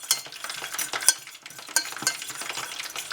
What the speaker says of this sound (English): Back to whisking.